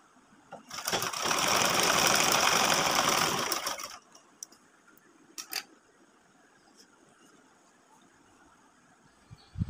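A sewing machine double-stitching fabric runs in one loud, steady burst of about three seconds, then stops, followed by a few faint clicks and handling noises in a quiet room.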